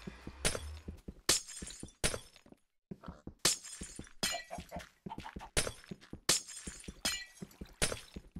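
Glass blocks breaking in Minecraft, a rapid series of sharp shattering crashes, about a dozen in quick rhythm with a brief pause in the middle, close and clear with no talking.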